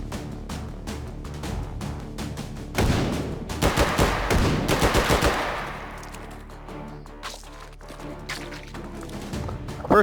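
Rapid bursts of rifle gunfire in the VR shooter H3VR, loud and close, with a dense volley of shots in the middle and scattered single reports around it, no talking.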